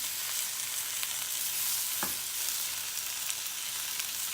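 Onions sautéing in a pan with a steady, dense sizzle throughout, with a faint occasional tick of stirring.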